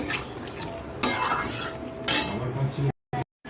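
A metal spoon scrapes and clinks against a pan while chicken curry sizzles and fries underneath, with two sharper scraping strokes standing out before the sound briefly drops out.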